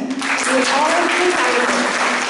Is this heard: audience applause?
yes